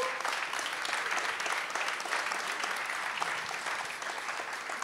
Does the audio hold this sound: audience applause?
yes